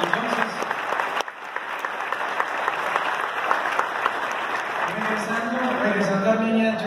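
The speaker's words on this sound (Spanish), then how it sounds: "Así que un aplauso para ustedes." An audience at a talk in Cali bursts into sustained, dense applause that fills the whole stretch, loud and close with a few voices mixed in.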